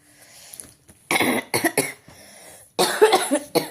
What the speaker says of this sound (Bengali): প্রচুর কাশি হচ্ছে